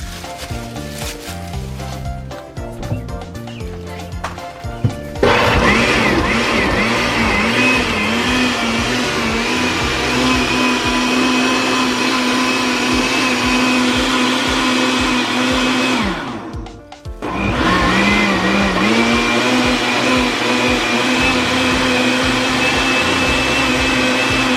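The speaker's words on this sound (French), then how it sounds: "on va tourner le mixeur" A kitchen blender whirs steadily while blending ginger juice, loud and continuous after a brief startup, with a short dip in motor sound partway through before it resumes.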